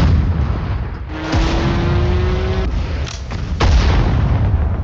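Artillery gun firing in the World War II strategy game Sudden Strike 4, a broad booming blast over constant battlefield rumble, with a second sharp report and clatter following about two seconds later.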